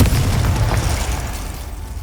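The Confringo fire spell goes off in Hogwarts Legacy as a loud, rumbling blast that fades over two seconds into a dull roar.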